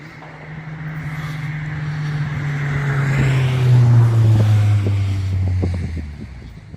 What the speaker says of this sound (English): despite all the car noise in the background